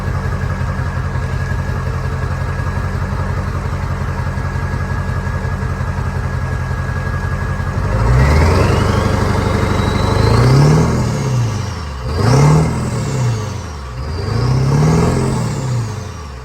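A turbocharged car engine with a turbo flap, just due for an oil change, idles steadily and fairly loud, then revs up in several rising and falling surges, near and without talk.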